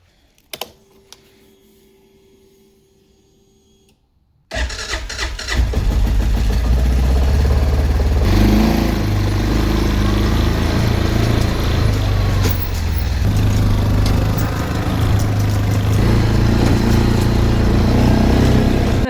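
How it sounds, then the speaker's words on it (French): A quad bike engine starts up after a quiet moment and then runs steadily at a loud, close idle, a constant low rumble holding to the end. "je vais aller chercher le super quad et on va faire les box maintenant"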